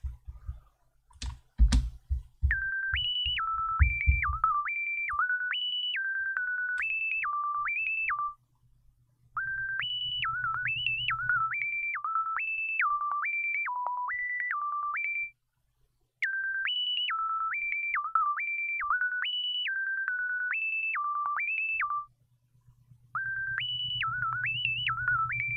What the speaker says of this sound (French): l'arpégiateur, c'est un son de synthé qui vient de la MPC